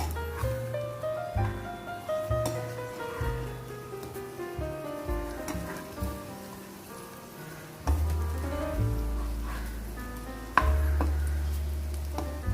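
Yam slices with curry leaves fry on a tawa, a soft sizzle running underneath while a spatula scrapes and taps as the pieces are flipped, with occasional louder knocks.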